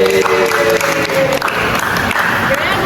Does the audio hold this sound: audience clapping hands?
yes